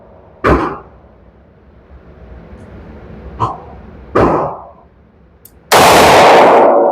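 Sig Sauer P365 AXG Legion pistol fired at a range, with four sharp, loud shots at irregular intervals, each with a short ringing tail, the last one very loud and close.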